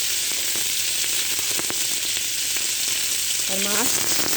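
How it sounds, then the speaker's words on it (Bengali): Pieces of grass carp fry in hot oil with a steady, loud, continuous sizzle, a brief chirpy squeak rising near the end. "আর মাছ ভাজা হচ্ছে, মাছগুলো ভাজা হচ্ছে"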